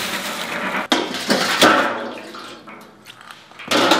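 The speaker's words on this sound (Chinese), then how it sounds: "把豌豆洗一下" Fresh peas get washed by hand in water, with close splashing, sloshing and a few sharp knocks against a container, bursts coming in irregular swells.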